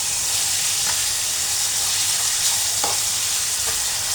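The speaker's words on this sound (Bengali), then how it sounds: "চিকেনগুলো এখন আমি ভেজে নেব।" Chicken pieces, already boiled, fry in a pan with a steady bright sizzle and hiss, and a few faint stirring scrapes come through close up.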